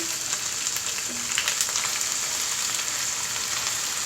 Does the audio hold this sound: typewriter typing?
no